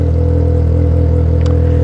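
An XJ6 White Edition Gold with a loud exhaust runs up close on Rua Augusta. It holds a heavy, steady engine drone with a deep exhaust rumble and barely varies in pitch.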